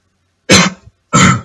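Two short, sharp coughs from a person with a cold, close to the microphone, separated by a brief pause.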